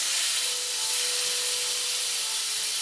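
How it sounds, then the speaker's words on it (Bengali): Prawns sizzle in hot oil, a steady broad hiss of frying that stays even and close for the whole stretch, with no talk. "এবারে গরম তেলে দিয়ে দেব"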